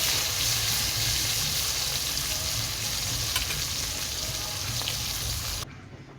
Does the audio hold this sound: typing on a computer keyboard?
no